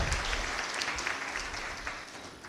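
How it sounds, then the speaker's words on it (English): Audience clapping fills the room at a county budget transparency survey launch in Kenya, a steady, fairly faint wash of many hands with no voices. "May you clap for my governor."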